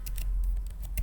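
A computer keyboard being typed on, a few quick separate key clicks at a moderate level over a low steady hum, with no voices.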